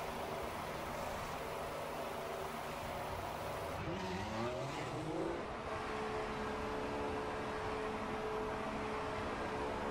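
Formula One cars in the F1 2014 racing game at Sochi roar past in a continuous engine drone, with a rising whine of a car overtaking midway, no speech.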